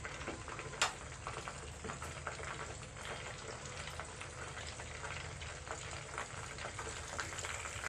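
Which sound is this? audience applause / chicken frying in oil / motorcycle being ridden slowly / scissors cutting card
chicken frying in oil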